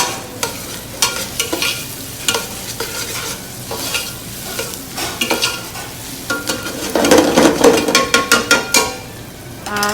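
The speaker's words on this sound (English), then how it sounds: "Throw some garlic in there, about 3 or 4 cloves depending on your liking" Garlic cloves, three or four of them, frying in a pan while being stirred, with steady crackling sizzle and repeated scraping stirs that grow louder and busier near the end; no talk.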